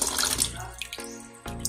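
Water starts flowing from a kitchen tap, a close hissing gush with splashing that fades, then surges again near the end; no talk.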